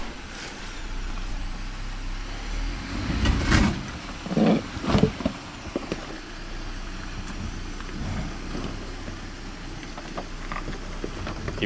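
A truck reverses slowly with a steady low engine rumble, broken by a few louder bursts of mechanical clunking and hissing midway, heard at moderate distance with no talk during the stretch.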